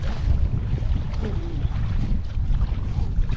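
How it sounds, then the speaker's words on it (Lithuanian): A kayak being paddled near Nida toward Klaipėda against a strong headwind, with steady wind buffeting the microphone and water sloshing around the hull, continuous and close. "Kaip vargina, tai normaliai taip irkluoti."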